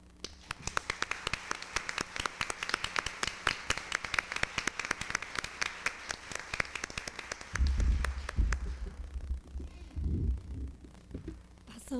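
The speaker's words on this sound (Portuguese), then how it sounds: "E eu peço, então, a vocês uma salva de palmas para a Madre Cristina Sodré Doria" An audience at a psychology conference gives a round of applause, with sharp, uneven claps that thin out toward the end while low thumps and rumbling sounds come in.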